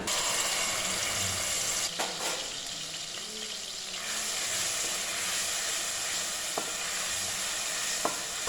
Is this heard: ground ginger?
yes